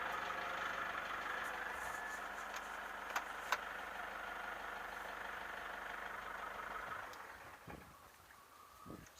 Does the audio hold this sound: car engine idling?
yes